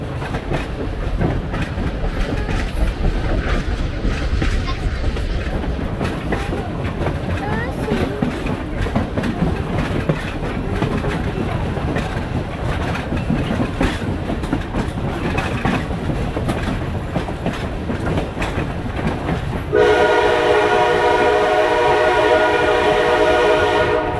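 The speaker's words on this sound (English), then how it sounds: "we had a fun time on our choo-choo train" An 80-year-old excursion train rumbles and clatters steadily along the tracks for a long stretch, then a loud, sustained horn blast sounds close by near the end.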